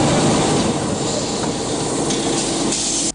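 A passenger train pulls into the Nigerian Railway Corporation terminal at Freedom Park late at night, a loud, steady wash of rolling wheels and hissing air with faint clicks, no voices over it.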